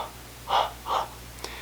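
Two short, close breaths are blown onto a closed motorcycle helmet visor fitted with a Pinlock anti-fog insert on a Ruroc Atlas helmet, followed by a faint click.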